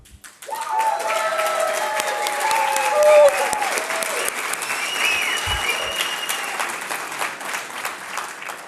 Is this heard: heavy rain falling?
no